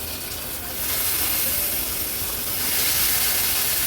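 Mixed vegetables, cauliflower and peas among them, drop into a pan of spice paste fried in oil for an Agri Koli-style veg thali, setting off a loud, broad hiss that swells after the first second and holds steady.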